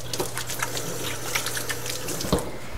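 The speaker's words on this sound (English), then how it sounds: "Gonna wash my hands." Steady tap water runs into a sink during hand washing in a home kitchen, a continuous close hiss with faint splashes and a low hum beneath, no talking.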